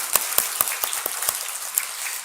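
A church congregation claps during a worship service, giving thanks and praise; sparse, uneven claps ring out in a handful of separate bursts before thinning into a soft scattered patter.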